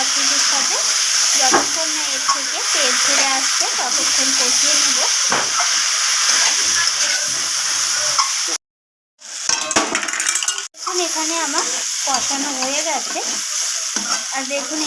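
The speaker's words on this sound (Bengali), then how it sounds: "তো এরপর কাবলি ছোলাগুলোকে আমি আবারও কষিয়ে নেবো সব কিছুর সাথে।" Boiled chickpeas stir-fried with spices in oil for chana paneer, a loud, steady sizzle with scraping stirs throughout, broken once by a short silence, heard close up with no voices.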